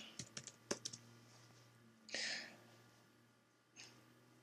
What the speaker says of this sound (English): I'll type in my text box.